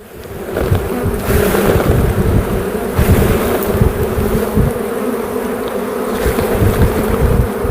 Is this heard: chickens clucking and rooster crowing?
no